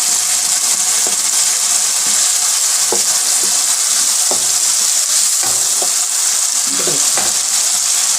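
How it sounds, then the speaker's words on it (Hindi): Masala roasting loudly in a pan for fried chana dal, a dense constant sizzle close up with scattered stirring clicks and scrapes throughout, no voices. "अच्छी तरह मसाला भुन गया है"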